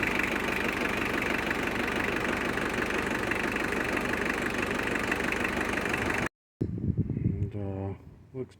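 A 1992 Mitsubishi Strada engine idling after an oil change, a steady close rumbling chug that cuts off abruptly, followed by someone speaking.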